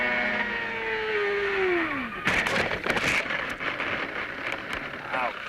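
A CART race car at Motegi in 2002 spins and crashes: a falling engine whine as the car slides, then a loud broadband impact with scattered crunching and scraping debris noise over several seconds.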